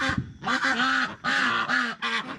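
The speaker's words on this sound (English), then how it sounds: "these ducks are still out here being noisy" Ducks quack loudly in a rapid, continuous series of nasal calls, close by, with short pauses between bursts.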